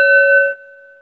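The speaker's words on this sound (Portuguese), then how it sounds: "O sino tibetano aqui da meditação" A Tibetan meditation bell rings with a single clear, pure tone that sustains and slowly decays, loud and close, with no other sounds around it.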